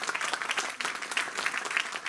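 A church congregation at a French-language service claps in a steady, dense burst of applause for the Holy Spirit, filling the whole short moment with no voice over it.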